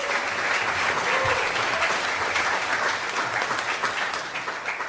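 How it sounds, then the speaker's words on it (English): Audience at a business community event breaks into a dense, sustained round of applause, many hands clapping together before fading slightly at the end. "Can we give them one more round of applause?"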